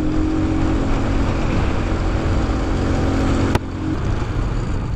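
An Italika 125Z motorcycle engine drones steadily while riding uphill, a loud continuous hum with wind roar; a brief click near the end and the engine note drops slightly afterward.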